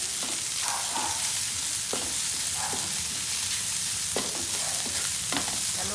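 A macaroni mixture seasoned with black pepper and salt is stirred in a frying pan, with soft sizzling and a few scraping, clicking utensil strokes spread steadily across the stretch.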